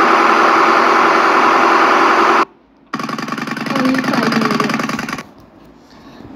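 A video game engine drones steadily at a high, buzzing pitch, cuts out briefly, then returns with a rougher, revving tone before fading down.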